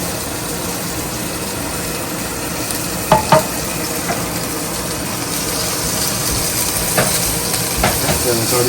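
A ribeye steak sears in a pan with a constant loud sizzle and hiss, broken by a few sharp pops and crackles.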